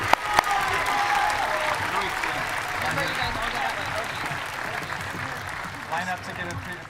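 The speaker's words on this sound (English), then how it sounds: "Please join me in applause for these graduates." Sustained applause from a high school graduation audience honoring graduates, a dense, even roar of many hands clapping for several seconds with faint voices mixed beneath.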